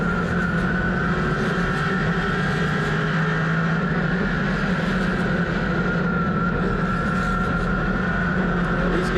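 Stock cars racing at Hickory Motor Speedway make a steady, unbroken engine roar with a sustained droning tone, loud and continuous throughout, with no voices.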